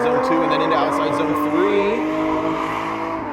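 Drift car sliding sideways under handbrake at a drift battle on Golden Sands Speedway, a loud continuous engine roar with rising and falling tire squeal, close and sustained throughout, with a commentator's voice faintly underneath.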